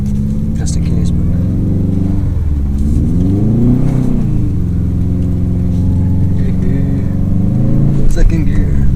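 A Subaru WRX STi driving through deep snow: its engine drones loud and close, rising and falling in pitch as it revs, while people talk inside the car over it.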